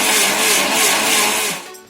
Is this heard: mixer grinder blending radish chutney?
yes